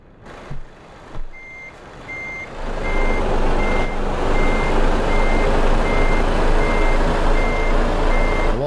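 A truck's reversing alarm in Euro Truck Simulator 2 beeps steadily at an even pace over a loud, continuous engine rumble. Two brief knocks come first.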